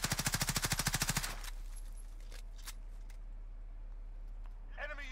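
Call of Duty Warzone video game gunfire: a rapid automatic burst of about a dozen shots at the start, then near quiet with faint scattered clatter and a brief muffled rustle at the end.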